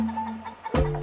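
Short, soft clucks from hens nearby, a couple of quick throaty calls close together.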